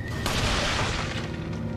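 A loud gunshot bursts out in Resident Evil 4, followed by a booming, echoing decay over a steady game background.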